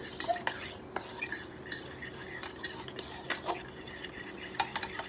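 A spoon stirring ragi flour into water, clinking against a small vessel, repeated light scraping taps over a faint background sizzle.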